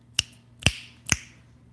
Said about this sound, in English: they say, oh, it's like snapping your fingers